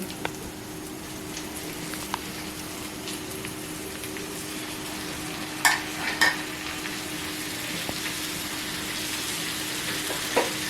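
Chicken stir-fried in spice masala, a quiet, even sizzle running throughout with a few sharp clinks and scrapes of a spoon against the pan, close, with no one speaking.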